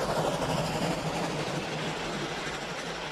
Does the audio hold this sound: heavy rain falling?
no